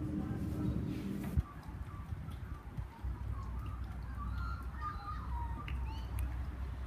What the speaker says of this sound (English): So hopefully you can hear all those beautiful birds in the background.